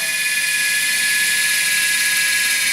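An R/C helicopter runs steadily, giving a loud, high-pitched whine with constant tonal hum and no change in pace over a few seconds.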